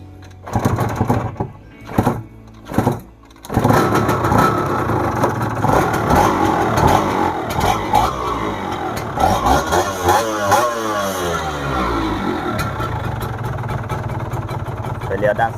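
A Yamaha TZR150 motorcycle engine, a two-stroke bike, is blipped a few times and then held at a steady running roar up close, with a few short bursts at the start before the sound settles into a sustained note.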